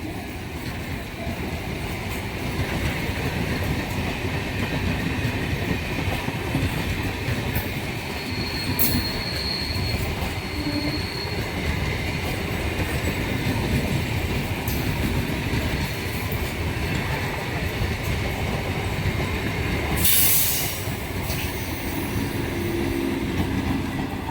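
A train runs past Berhampore Court railway station in a long, steady rumble of wheels on rail, with occasional squeals and brief clatter peaks, loud and close throughout with no talk.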